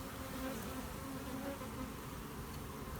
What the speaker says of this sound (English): All the foragers are coming back to my box. They're liking that old comb in there.